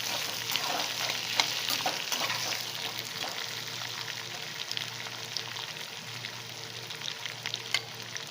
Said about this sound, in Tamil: ஒரு பெரட்டி விட்டுடலாம்.